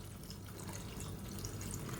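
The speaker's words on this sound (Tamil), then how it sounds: "நல்லா சூடு பண்ணிவிட்டு இந்த தண்ணியை சேர்த்துக்கோங்க." Hot water poured into a Tamil beetroot pakoda kuzhambu (curry) in a pot, a steady continuous watery rush lasting about two seconds, close and fairly quiet with no voices.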